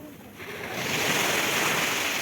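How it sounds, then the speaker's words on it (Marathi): Sea waves wash onto the beach at Chaitya Bhoomi in Mumbai, rising from a quieter hiss into a broad, close surge of surf that holds steady. "हां काय लाटायचा आवाज आहे काय"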